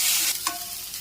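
Garlic, curry leaves, onions and lentils fry in a hot pan for a tempering, giving a steady close sizzle with a brief stir or clink partway through.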